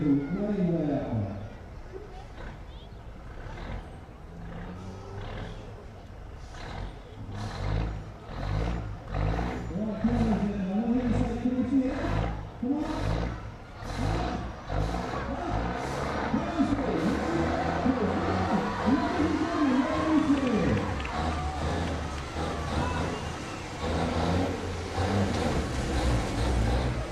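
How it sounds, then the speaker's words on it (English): A wheelie truck's engine roars and revs at a drag racing event at Doncaster, a loud sustained rumble with rising and falling surges, with a voice talking over it. "The wheelie truck, ladies and gentlemen."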